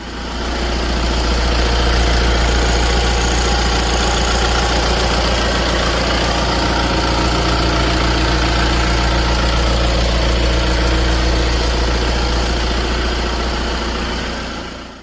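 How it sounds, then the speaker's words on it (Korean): A fourth-generation Kia Sorento 2.2 diesel (2WD) idles steadily up close, a constant low rumble with a dense diesel clatter that holds even for the full length, with no voices. "엔진룸은 엔진 소리를 위해 자막 없이 진행되니 귀 기울여 주시기 바랍니다."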